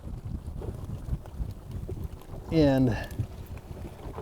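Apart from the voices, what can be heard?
wind blowing on a lake while fishing from a boat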